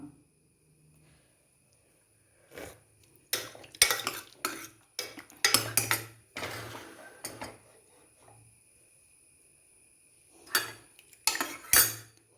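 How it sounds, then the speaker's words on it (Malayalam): Spoon mashing cooked sambar ingredients in a metal pot, heard as scattered bursts of scraping and clinking metal, some quick and clustered, others separated by quiet gaps, close and fairly loud with no talking. "ഇത് ഉടച്ചു കൊടുക്കുന്നത് ഇഷ്ടമുള്ളവർക്ക് ഉടച്ചു കൊടുക്കാം."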